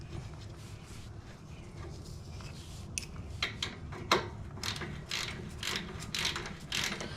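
Oil drain plug being tightened on a Harley Davidson Fatboy Softail Twin Cam, heard as close rapid ratchet clicks in short bursts with metallic tool contact.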